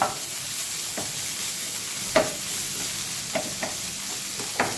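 Vegetables fry in hot oil in a pan with a steady, fairly quiet sizzle, while a spoon scrapes and stirs in a few sharp strokes spread through it. No voices.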